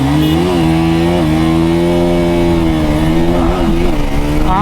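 KTM RC 200 motorcycle engine revving hard at a drag race launch, a loud, steady, close roar with rising and falling pitch that holds throughout, with no voices.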